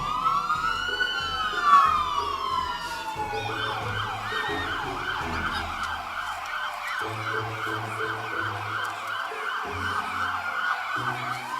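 A police car siren sweeps up and down at a Christmas parade, then shifts into a rapid warbling yelp, wailing continuously over a low rumble of traffic.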